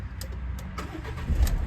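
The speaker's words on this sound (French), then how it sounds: "Je vais en profiter pour vous le démarrer." A Renault Kangoo with about 78,000 km being started: a brief cranking burst that catches into a steady idle, heard close and without talk.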